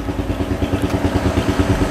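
An HSX 110 semi-manual motorcycle runs with a steady, even engine chatter that pulses rhythmically throughout, close up and alone with no voices.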